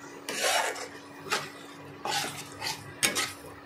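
Bhetki fish being stirred and fried in a pan, several separate scraping and rasping bursts of a utensil against the pan, fairly quiet over a steady background hum, with no talk.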